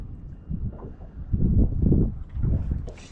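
Wind gusts buffet the microphone out on a lake during boat fishing, swelling into a loud, rumbling roar through the middle before easing.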